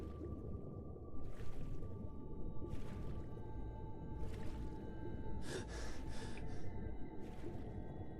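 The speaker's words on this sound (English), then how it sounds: "What are you gasping for, Harry?" A character gasps and snorts for air while swimming underwater in Skyrim, repeated breathy gasps spaced a second or two apart over a steady watery background.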